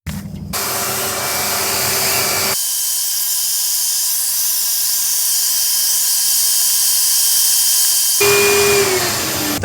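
Steady loud hiss of an HVLP paint sprayer laying down a first coat outdoors, one continuous blast of air that shifts in tone partway through and again near the end before cutting off.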